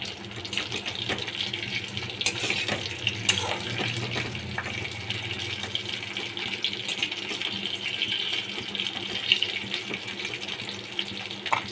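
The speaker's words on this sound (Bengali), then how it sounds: "নুন হলুদ মাখিয়ে ইলিশ মাছের মাথাগুলো আমি ভেজে নিচ্ছি" Hilsa fish heads coated with salt and turmeric fry in oil with a steady, close, hissing sizzle broken by scattered sharp pops and crackles, alone without any talk.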